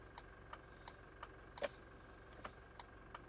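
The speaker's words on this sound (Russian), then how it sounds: "Указатели поворотов — левый и правый." Indicator relay of a 2022 Toyota Fortuner 2.8D automatic clicks in a steady rhythm, soft regular ticks spaced about a third of a second apart inside the quiet cabin, with one slightly louder tick among them.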